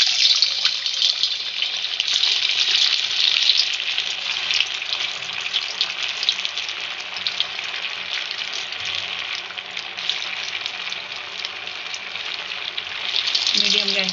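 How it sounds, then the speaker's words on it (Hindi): Poha cutlets deep-frying in hot oil over medium gas, a loud, steady, crackling sizzle that runs continuously throughout. "अब हम इन्हें तल लेंगे।"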